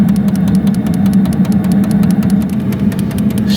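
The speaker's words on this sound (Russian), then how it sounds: "Вот он подогрелся, насос заработал." An engine preheater's fuel pump runs at a steady, loud hum, with rapid regular clicks ticking throughout, close by in a quiet outdoor setting, no voices.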